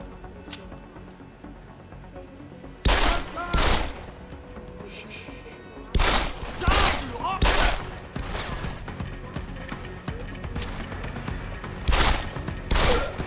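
Gunfire from the video game Deus Ex: Human Revolution, with loud bursts of shots in separate clusters, some single and some rapid, set against a steady background hum, during headshot kills.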